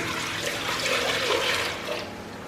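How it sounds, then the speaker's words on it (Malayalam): Four cups of coconut milk poured into a cooking pot for yellow rice, a steady close liquid splashing and gurgling that runs for about two seconds and then eases off, with no talk. "ഇനി നമുക്ക് ഇതിലേക്ക് നമ്മൾ എടുത്തു വെച്ചിരിക്കുന്ന 4 കപ്പ് തേങ്ങാപ്പാൽ ഒഴിച്ചു കൊടുക്കണം"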